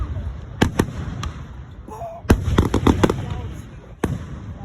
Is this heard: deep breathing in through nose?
no